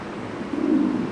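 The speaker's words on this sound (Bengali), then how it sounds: "খুব সুন্দর এক জোড়া নতুন কবুতর, নতুন ইন্দোনেশিয়ান মুন্ডিয়ান কবুতর" A pair of Indonesian Mundian pigeons coo once, close and fairly loud, a short low throaty call that swells in the middle of a quiet moment with no talk.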